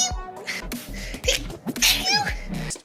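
A rapid series of loud sneezes from a person, each burst sharp and close, with breathy gasps between them and no speech.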